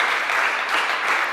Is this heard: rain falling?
no